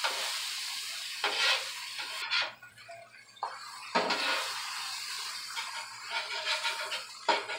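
Smash burgers sizzle loudly on a hot griddle with a steady bright hiss, broken by a few scraping spatula strokes and short lulls, and no voices.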